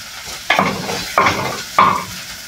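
Chicken going into a pot for a Filipino chicken vegetable soup, with three strong sizzling bursts about half a second apart as pieces hit hot oil, each hiss fading under steady stirring.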